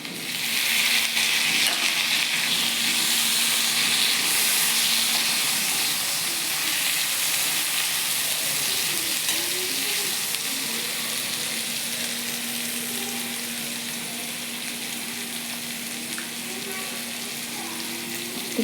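Onion frying in a pan: a continuous loud, bright sizzle that holds steady throughout, with faint stirring and a low hum beneath.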